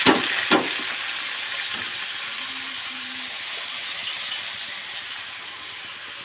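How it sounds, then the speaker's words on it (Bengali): Ivy gourd frying in hot oil over a mustard-seed tempering gives a continuous, moderately loud sizzle with a few sharp clatters of stirring at the start. "সর্ষেটা ভাজা হয়ে গেছে, এবার আমি এর মধ্যে সবজিটা দিই"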